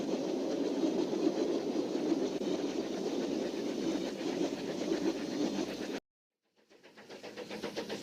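20th Century Limited steam streamliner passenger train running, a steady rumbling rattle of wheels on track that cuts out abruptly and then swells back in.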